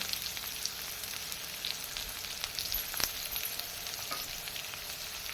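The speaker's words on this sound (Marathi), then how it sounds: "आता आपण कांदा व्यवस्थित फ्राय होईपर्यंत तो तेलावर छान परतून घेणार आहोत" Onion fries in oil for red potato bhaji, making a soft, continuous crackling sizzle with faint pops and an occasional stirring tap, heard alone at low volume.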